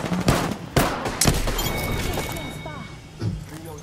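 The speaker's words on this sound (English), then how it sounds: "What are you shooting at?" Sharp video-game gunshots crack in a few distinct bursts early on, then give way to quieter action while voices talk over the fight.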